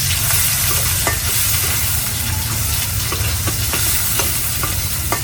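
Chopped onions fry in hot mustard oil, a loud, continuous close sizzle with scattered crackles and spatters throughout and no voices.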